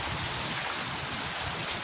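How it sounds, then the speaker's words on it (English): Steady rain pours outside during a storm, a dense even hiss with no distinct drops standing out, close and continuous throughout with no voices. "just listen to the rain"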